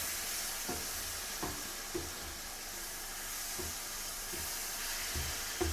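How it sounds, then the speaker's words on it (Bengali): Spices sizzling steadily in a pan with a little water, stirred for a fish chochchori, with a continuous hiss and regular soft scraping thumps from the spoon roughly every half second, close and without talk. "সামান্য পানি দিয়ে ভাজা ভাজা করব, ভালো করে কষাবো"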